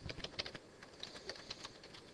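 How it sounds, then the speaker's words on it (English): Quiet, close computer keyboard typing: a quick run of light key clicks with irregular spacing, faint and alone. "And then hitting the enter key on the keyboard."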